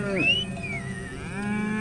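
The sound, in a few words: cattle mooing where Maasai graze their herds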